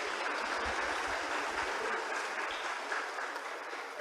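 An audience of new students in a university hall gives sustained, even applause for an outstanding student, a broad continuous clapping with no talk.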